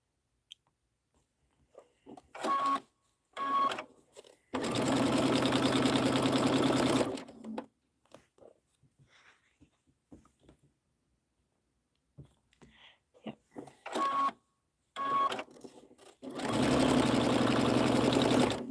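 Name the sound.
sewing machine stitching stars during a livestream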